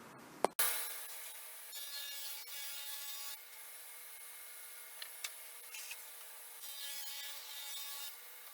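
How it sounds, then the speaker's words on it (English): Half-inch MDF boards being cut with a saw give a sustained rasping, grinding drone in several long passes after a sharp click at the start, close and steady with no talking. "I'm going to cut 2 more pieces of that 1/2 inch MDF"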